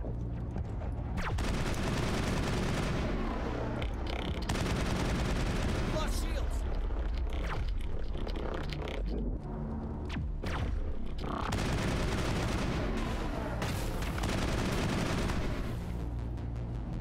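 Dense sci-fi gunfire from Mass Effect combat, loud and sustained with rapid overlapping bursts, booming impacts and short lulls, filling the foreground throughout.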